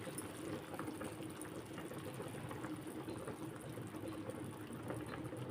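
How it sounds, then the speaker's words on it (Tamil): A pot of Tamil paruppu urundai kulambu curry simmering on a stove, a quiet continuous bubbling with faint pops, steady throughout and without talk. "குழம்பு நல்லா கொதிக்குது"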